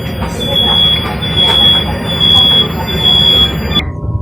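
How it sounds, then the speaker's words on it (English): KLIA Transit airport train running toward Kuala Lumpur International Airport, a loud steady interior rumble with a high whining tone, ending abruptly near the end. "This KLIA transit train is bound for Kuala Lumpur International Airport at KLIA2."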